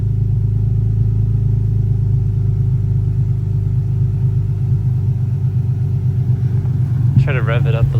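Car engine idling steadily with a deep, even rumble up close, then a brief rise at the end, where a voice also cuts in.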